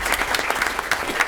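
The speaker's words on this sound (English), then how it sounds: "So let's give them a round of applause for Coach Cook" Audience applause at a school board of education meeting, honoring a coach and student athletes; steady, dense clapping from a crowd filling the room, fairly loud and continuous throughout without speech.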